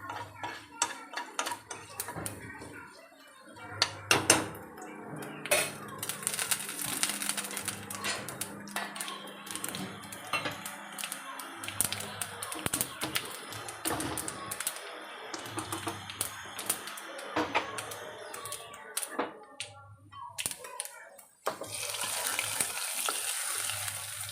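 Hot tempering of mustard seeds, curry leaves, chillies and shallots poured into a tomato curry, giving a crackling sizzle with scraping and clinks over about 24 seconds, loud bursts easing toward a steady fry.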